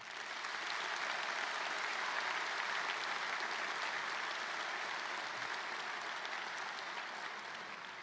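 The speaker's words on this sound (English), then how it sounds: "Please join me in a round of applause for Calvary Church" An audience at a Conestoga Valley High School graduation ceremony applauds Calvary Church in a thick, even wash of clapping from a large crowd that holds steady and fades slightly.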